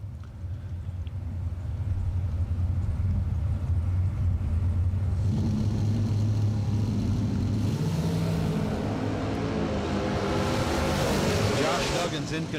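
A bracket racing car with a single carburetor and no supercharger accelerates down a drag strip, a continuous loud engine roar that rises in pitch toward the end, with an announcer talking over it.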